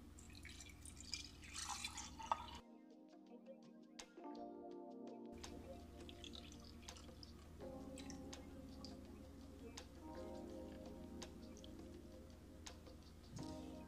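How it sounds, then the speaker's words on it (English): Pineapple, cucumber, ginger and lemon juice is poured into a glass, giving faint drips and a light liquid trickle with a brief silent break midway, quiet and close. "I'm gonna pour the rest over here."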